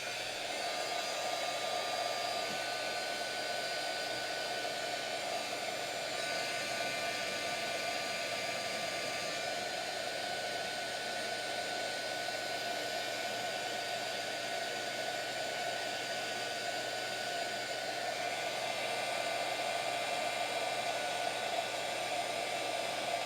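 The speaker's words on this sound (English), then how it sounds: "So now I'm going to get my heat gun and we're going to heat this up." A heat gun blows steadily and loudly at close range while warming a piece, giving an unbroken, even, fan-driven hiss that lasts throughout with no pauses.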